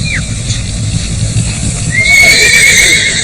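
A Mongolian racehorse in valley race training, worked hard under sheepskins and thick blankets, gives a short neigh, then a longer ringing whinny, close and loud, with hooves clopping and a voice talking underneath.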